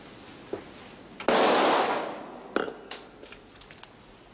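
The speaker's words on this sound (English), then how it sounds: "That was a gunshot, sir." Single sharp gunshot fired inside a dining room as a drama sound effect, a loud close crack followed by a decaying roar, surrounded by a few softer knocks and clicks.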